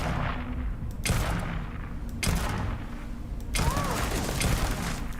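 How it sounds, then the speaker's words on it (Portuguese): An enemy's gunfire in the video game Starfield comes as three loud, sharp bursts of rapid shots over a constant rumbling, mechanical game background. "Olha como ela tá atirando."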